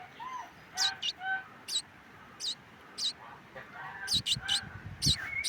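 A young bird in a nest gives repeated thin, high chirping calls in short bursts, fairly close and faint, with a person talking quietly in between.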